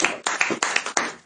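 A church audience claps in several sharp, fairly close bursts, loud at first and then tapering off.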